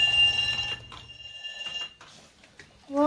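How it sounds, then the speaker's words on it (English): A toy school bell rings in short electronic bursts with gaps between them, ending with a brief rising chime. "Press the bell to let the students know it's the end of school."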